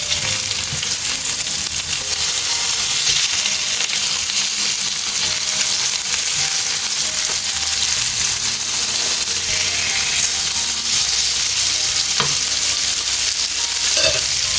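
Salmon pieces fry in a pan with a loud, dense sizzle that holds steady for the whole stretch, marked near the end by a couple of sharp clicks. No one speaks.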